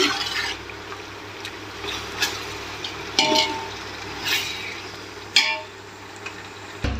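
Ginger garlic paste sizzles in a hot pan for biryani, a steady frying hiss broken by several sharp scrapes and clatters of a spoon stirring against the metal, close and moderately loud.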